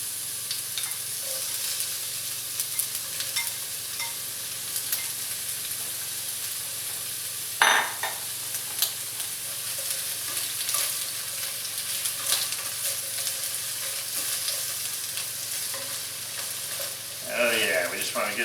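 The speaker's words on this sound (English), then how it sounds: "got a nice hot pan with some canola oil in here" Onion wedges frying in a hot pan of canola oil, a steady close sizzle with occasional spatula clanks and stirring scrapes, a voice briefly heard near the end.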